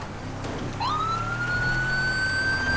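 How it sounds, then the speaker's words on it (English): A police siren in GTA 5 rises into a steady wail over a rumbling engine near Grapeseed, growing slightly louder and continuing alone without talk. "I hear sirens."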